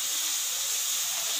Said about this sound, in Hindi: तो अभी हम ऑयल में इसको डाल देते हैं।